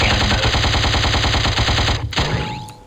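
Video game gun fired in alternate-fire cannon mode, a loud rapid rhythmic burst of repeated shots lasting about two seconds before cutting off into a brief decaying tail.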